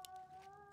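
Short chicken clucks from a video game, a couple of quick bursts over a steady tonal game background with no talking.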